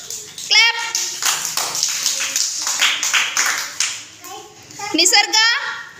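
A group of young children claps together during a classroom colour activity, a burst of quick uneven hand claps lasting a few seconds, with a voice and children's voices before and after.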